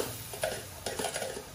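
Brief, quick stirring of flour into butter in a pan with spoons, a few soft scraping strokes against the pan over a low background hiss.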